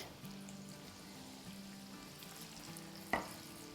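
Aloo kebabs, potato patties made with rice flour, fry in a pan over medium heat with a soft, steady sizzle and a few faint scrapes, then one sharp clack near the end.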